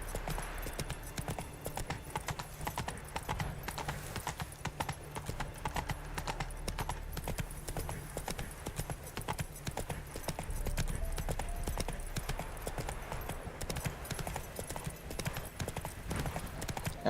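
Roach, the horse in The Witcher 3, gallops with steady, rapid clip-clop hoofbeats that run throughout over game music and ambience, and a brief whinny is heard.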